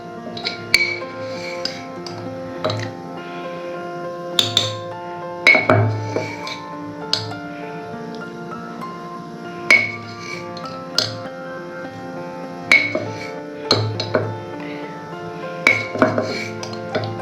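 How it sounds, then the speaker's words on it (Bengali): Metal spoon clinking against a cup or jar while scooping sugar and coffee, a series of sharp irregular taps and rings spread across the clip with quiet gaps between them. "ওই 5 চামচ মতো চিনি নিলাম।"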